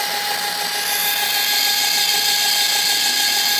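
A modified DC motor, fitted in place of a dead AC motor, runs steadily with a loud, even whine and mechanical rattle that holds without a break from start to end, with no talking.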